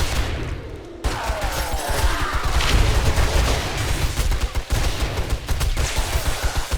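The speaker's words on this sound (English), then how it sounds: "All these explosions make it so difficult to see where the zombies are." Dense, continuous barrage of booming blasts and rapid gunfire-like bursts in the video game 7 Days to Die with the Rebirth mod, loud and chaotic, with no voices.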